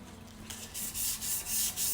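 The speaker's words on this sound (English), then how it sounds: "Right now, we're just scuffing up the stainless steel so that when we go to do our base paint" Sandpaper scuffs a stainless steel cup ahead of base painting, making a series of rhythmic rasping rubs, about four or five strokes, close and fairly quiet, with no talking.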